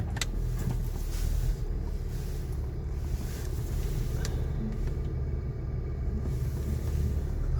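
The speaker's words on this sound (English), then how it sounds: "I'll park my car right here." A Honda Civic rolls along and eases to a stop for parking, its low engine and road rumble steady and close throughout with some wind buffeting, a few faint clicks on top, no talking.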